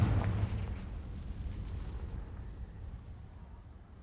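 A Confringo fire spell explosion in the Hogwarts Legacy video game: one loud, deep boom at the start that rumbles and fades away over about four seconds, heard alone.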